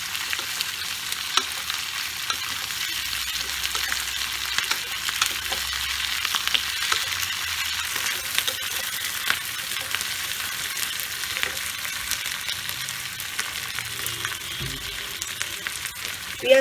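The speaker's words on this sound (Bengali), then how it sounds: "পেঁয়াজ কলিও ভাজা ভাজা হয়ে গেছে।" Spring onions crackle in oil, a steady, moderate sizzle with intermittent scraping of a spatula stirring them around the pan and a few light knocks, all without speech.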